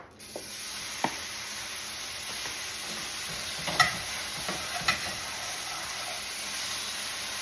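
Thinly sliced beef frying in a little oil in a skillet gives a steady broadband sizzle throughout, with a few sharper spatters and utensil scrapes over the continuous hiss.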